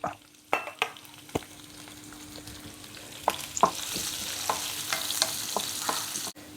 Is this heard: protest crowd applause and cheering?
no